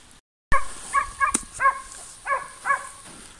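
A hunting dog barks a series of short, yelping barks at a steady pace, somewhat distant, with faint background hiss, during a wild boar hunt.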